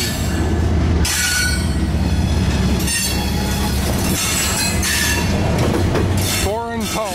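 A CSX mixed freight train hauled by foreign power crosses a diamond at a road crossing in Mulberry, Florida. A loud, continuous rolling rumble carries wheel clatter, and sharp wheel squeals rise near the end as the train passes close by.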